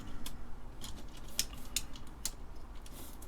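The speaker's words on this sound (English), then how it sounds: "I'm actually going to put the keycaps on." Keycaps are pressed onto a TeleVideo TVI-912C terminal keyboard, making a few sharp plastic snaps and clicks against a low, steady background hum.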